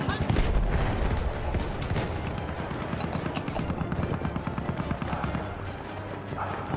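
Rapid gunfire in Battlefield 1 multiplayer domination combat, sustained close rattling shots and bursts spread across the clip over a busy battlefield din.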